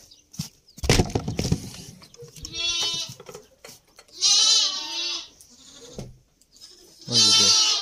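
Sheep and young lambs bleating in a sheep pen on a Kazakh farm, several separate loud, close calls with quiet gaps between, plus a few sharp knocks and rustles.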